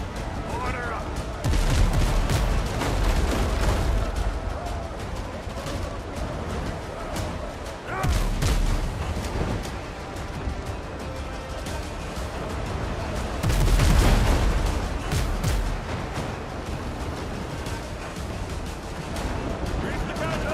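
Ship cannons fire broadsides in a Windrose naval battle, heavy booming volleys arriving in several loud waves with rumbling thuds between, with voices talking over the action at times.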